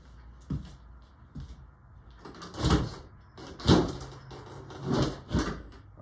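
Indoor door opening and closing to let a cat in, a series of soft thumps, rattles and latch clicks spread over several seconds, close by with no talk.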